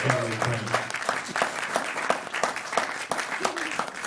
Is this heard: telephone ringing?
no